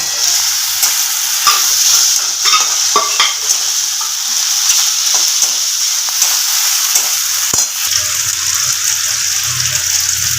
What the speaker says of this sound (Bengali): আদা রসুনের পেস্টটা দিয়ে খুব ভালোভাবে কষিয়ে নেব